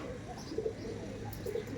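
Rampuri pigeons coo softly in a loft, a few short, low murmuring calls repeating over steady faint background noise.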